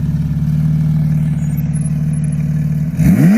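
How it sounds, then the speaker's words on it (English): Porsche 992 GT3 with an FI exhaust in comfort mode, a steady close idle drone that suddenly climbs into a rising rev in the final half-second. "we're gonna do some comfort revs for you guys"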